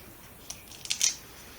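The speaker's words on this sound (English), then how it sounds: "We're going to come back and cut a circle out." Scissors snip through paper card, cutting out a circle: a few quick crisp snips close by in a quiet room, the last ones louder and bunched together.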